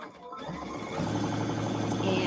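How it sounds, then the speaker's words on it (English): A sewing machine stitches the bottom seam of a fabric bag, starting after a brief pause and then running steadily in a fast, even mechanical patter, moderately close. "So I'm just going to go ahead and sew along the bottom."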